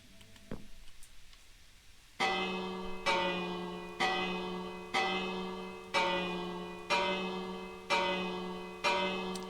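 A bell in the Minecraft video game rings repeatedly after a few quiet clicks, seven or eight bright metallic strikes at an even one-second pace, each decaying quickly, clear and alone.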